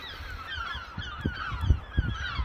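Gulls around Worthing rooftops give repeated harsh, wavering calls that overlap in a noisy chorus, with low thumps underneath.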